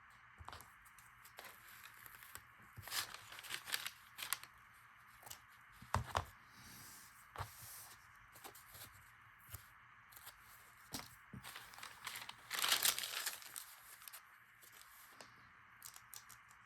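Paper being cut to length for an Easter junk journal: quiet, intermittent snips and crinkly rustles in short irregular bursts, close by, with no talking.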